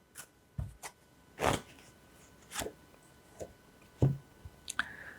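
Soul message cards shuffled by hand, heard as a string of separate close papery slaps and riffles with short pauses between them and no talking.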